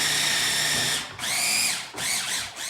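A kitchen grinder's motor whirs loudly as it chops onions and other vegetables for split pea soup, its pitch sliding up and down through three pulsing bursts.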